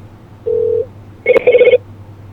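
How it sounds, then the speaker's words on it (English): A short electronic tone sounds, followed by a brief warbling telephone ring, both clear and close, with quiet background between them, during a live interview stream. "Get this ringing out of the way."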